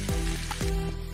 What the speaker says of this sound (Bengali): 5 মিনিট মিডিয়াম ফ্লেমের মধ্যে আবার ফ্রাই করে নেব।